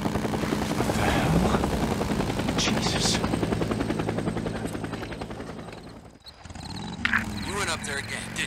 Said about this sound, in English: Another NERO chopper.